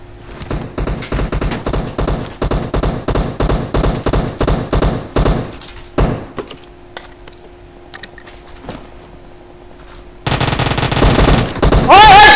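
Rapid, evenly spaced gunfire from PUBG Mobile rings out loud and close in a steady volley, trailing into a few scattered shots, then a sudden, loud, noisy rush of sound near the end.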